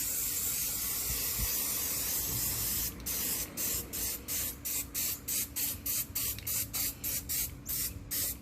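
An aerosol can lays a light dusting coat of black paint on wheels: a steady loud hiss at first, then a quick series of short, evenly spaced spray bursts close up, with no talk.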